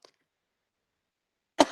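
A single sharp cough from a Spanish-speaking lecturer with a heavy cough bursts out near the end, following a tiny faint sound and a long silence.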